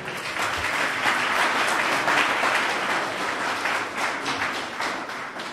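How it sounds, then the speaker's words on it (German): Audience applause at a German Monday info gathering, dense and steady clapping from a sizable crowd, loud and sustained throughout with no voices over it. "Es hat wahrscheinlich auch einen Applaus verdient."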